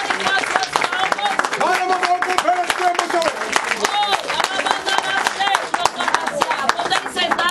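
Church congregation in Boane, Mozambique clapping in praise, rapid overlapping handclaps throughout, mixed with a loud voice speaking and singing voices over them.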